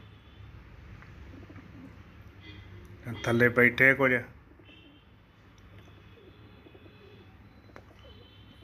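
A pigeon gives a short burst of soft rhythmic cooing close by, rising out of a quiet outdoor background, with someone speaking briefly nearby.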